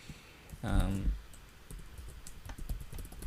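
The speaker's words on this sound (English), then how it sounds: "hit the tab key on your keyboard" Typing on a computer keyboard while coding, with scattered light key clicks following a short burst of speech near the start.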